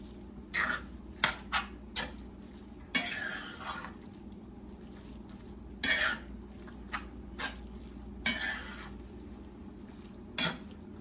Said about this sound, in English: So I'm stirring up the saltfish in it.